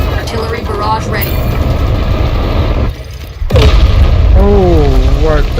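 Artillery barrage in a large-scale Minecraft civilization battle: deep, continuous booming explosions rumble heavily, dropping out briefly before surging back louder, while a person talks over them.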